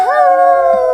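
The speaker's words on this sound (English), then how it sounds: "Werewolf noises. Just howls." A single loud, sustained werewolf howl rises and holds a steady tone, close and alone.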